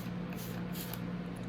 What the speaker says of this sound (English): Spray it again.